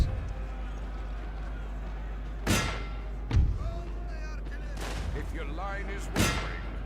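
Heavy cannon fire in the Napoleon: Total War strategy game, with three or four loud booming volleys spaced across a steady low background rumble. Scattered game voices call out between the blasts.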